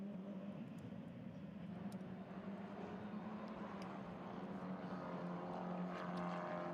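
Race car engines drone steadily as the cars leave the pits at MotorLand, a continuous distant rumble from several cars with no clear passes and no talk.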